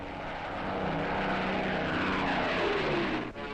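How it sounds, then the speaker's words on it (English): Several Lancaster bomber piston engines roar as the aircraft race down the runway on takeoff, a loud, continuous droning rumble that swells slightly and holds steady, with no voices. "29 Lancasters race along the runway."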